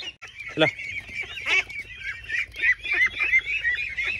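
Young ducks on a small duck farm quack and honk in a busy, overlapping chorus, close and fairly loud, with calls coming almost continuously over a few seconds.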